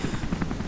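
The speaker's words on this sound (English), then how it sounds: "Oh, that's a helicopter." Rapid rhythmic thumping of helicopter rotor blades in the video game Rise of the Tomb Raider, steady and moderately loud, with no voices.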